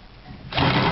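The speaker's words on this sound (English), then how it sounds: "Four bolts here, let's get them out." A power tool such as an impact driver starts up halfway through, loud and buzzing as it backs out the bolts holding a microwave oven transformer, after a quieter opening stretch.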